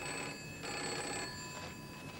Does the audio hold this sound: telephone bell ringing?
yes